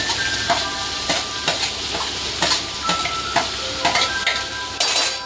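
Carrots tossed into a pan of pasta vegetables get stirred with repeated scraping strokes against the pan over a steady close sizzle, with no talking.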